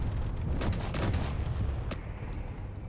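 Weapons fire in the space game Space Engineers as a dense, loud barrage of rapid shots and booms that rolls on continuously before easing off slightly near the end.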